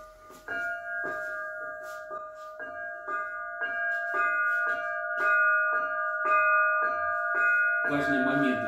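Zazvon chime bells of a church belfry struck in a steady repeating pattern of bright, ringing strokes with sustained overlapping tones, close and fairly loud, ending in a busier cluster of strikes.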